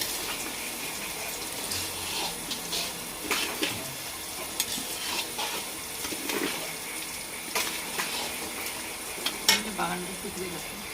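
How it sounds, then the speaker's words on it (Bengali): Dal and rice frying together in oil and ghee for khichuri, a moderate sizzle with intermittent scraping and clinking of a spatula stirring, close by, with no talk. "এবারে আমি ডাল চাল একসঙ্গে একটু ভেজে নেবো"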